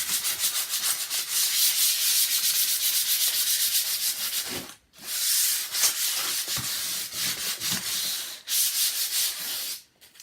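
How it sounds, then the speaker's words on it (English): 80 grit sandpaper rasps across hardened resin in quick back-and-forth strokes, loud and close, with a few short pauses. "I use 80 grit sandpaper and literally just sand the piece"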